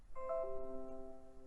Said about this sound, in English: You hear all these bells ringing?